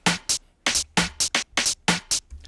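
A UK garage drum loop programmed in Ableton Live, with a loud, syncopated swung pattern of layered snare and percussion hits over short low kick thumps, repeating about every second with no voices.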